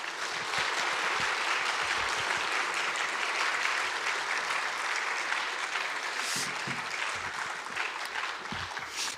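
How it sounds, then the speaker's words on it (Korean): A church congregation applauds to welcome a guest pastor arriving to lead a seminar, a dense sustained wash of clapping from a large crowd that continues steadily throughout. "바른미디어 대표이신 조미돈 목사님 나오실 때 우리 큰 박수로 환영하겠습니다"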